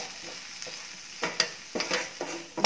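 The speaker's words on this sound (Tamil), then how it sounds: "இதை பொடியை நல்லா கிண்டி வதக்கி விட்டுருங்க" A spoon scrapes and stirs chili powder with tomatoes sautéing in a pan for a Tamil pirandai (adamant creeper) gravy, giving a soft sizzle broken by several distinct stirring strokes close up.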